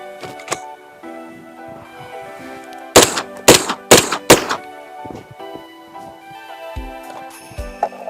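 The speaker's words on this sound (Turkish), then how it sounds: "Son şarjörümü de atıyorum." An Aksa Crossfire shotgun fires its last magazine outdoors, four loud sharp blasts in quick succession, preceded and followed by mechanical clicks and clatter of the action and handling.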